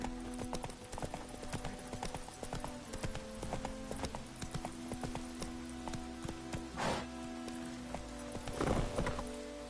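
Roach, the player's horse in the video game The Witcher 3, with steady, close hoofbeats clip-clopping in a continuous rhythm over a soft, rain-like background hiss.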